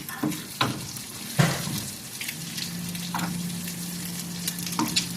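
An egg fries in a pan set out under the hot sun, giving a soft continuous sizzle with scattered crackles and light tapping of a spoon, fairly close and steady throughout.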